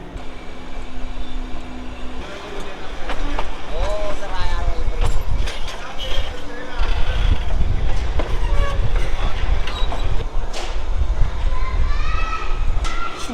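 The Kalka–Shimla toy train runs along its mountain line with a steady low rumble and rattling of carriages, a short horn-like tone near the start, and people talking over the continuous noise.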